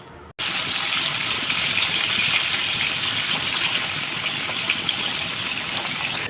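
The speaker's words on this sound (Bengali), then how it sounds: "এবার মাছগুলোকে উল্টিয়ে দুপাশ হালকা করে ভেজে নেব।" Pabda fish frying in hot oil in a kadai, a steady broad sizzle starting abruptly after a brief pause and holding loud and even throughout, close by.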